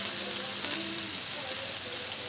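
Meat frying in a pan for qurtoba, a Tajik national dish, with a steady close hiss and faint crackle throughout, no voices.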